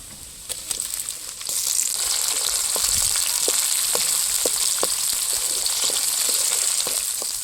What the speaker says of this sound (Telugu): ఇప్పుడు టమాటా ఎర్రగడ్డతో నూనెలో బాగా ఉడికింది